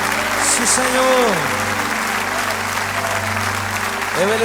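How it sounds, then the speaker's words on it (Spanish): Church congregation applauding during a Spanish-language worship service, a broad wash of clapping with sung or spoken voices and sustained tones layered over it. "Débele fuerte ese aplauso a Él"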